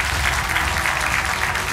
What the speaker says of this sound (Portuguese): Um aplauso para a Teresa, é a nossa campeã.